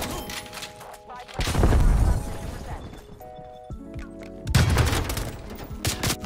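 Bursts of rapid gunfire and impacts from a Call of Duty: Black Ops Cold War multiplayer match come in two loud clusters, mixed with game effects and beeping tones, while a voice talks over the action.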